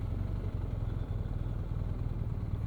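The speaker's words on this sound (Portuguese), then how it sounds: "Por isso, muita gente de moto." Motorcycle engines rumble steadily as bikes pass along a busy riverside quay on a sunny Sunday morning, a continuous low mid-level drone with no talk.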